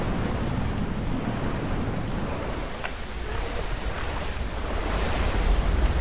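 A waterfall in the video game Tomb Raider Anniversary roars as a steady, dense rush of water with a deep rumble, continuous and loud for the whole stretch.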